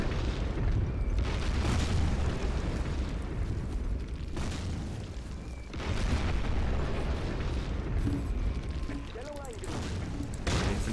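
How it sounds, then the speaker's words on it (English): A tank shell strikes a vehicle during a World War II Eastern Front battle in Close Combat: Cross of Iron. Several loud, heavy booms punch through a constant rumbling din of combat. "direct hit on our vehicle"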